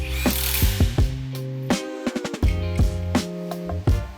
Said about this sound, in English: whenever you're putting your lug nuts on, you want to make sure you go in a star pattern to ensure even pressure and even tightness